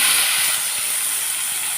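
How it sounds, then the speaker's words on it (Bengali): Yardlong beans fry in a pan, a loud close continuous hiss of oil that eases slightly but stays steady throughout, with no talking. "এখন এই যে বটবটি ভাজা বসিয়ে দিলাম"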